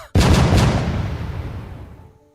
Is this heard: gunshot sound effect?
yes